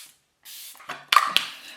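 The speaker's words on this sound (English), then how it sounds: "I've also got this MK Beauty Miracle Flawless setting spray." Two short hissing bursts of MK Beauty Miracle Flawless setting spray misted from a can, close and fairly loud, alone without talk.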